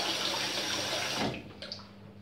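Water running steadily from a bathroom tap while rinsing after a shave, a loud continuous gush that cuts off about halfway, leaving faint splashes and drips.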